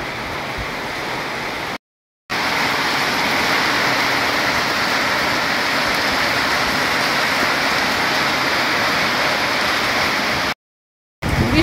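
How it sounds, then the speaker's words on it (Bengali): Heavy rain pours down in a strong downpour after a long hot spell, a loud, dense, continuous hiss that fills the whole stretch apart from two brief dropouts. "বৃষ্টি হচ্ছে আজকে, কি জোরে বৃষ্টি নেমেছে"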